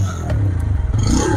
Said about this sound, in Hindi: थोड़ी सा मैं इसको रेव करता हूँ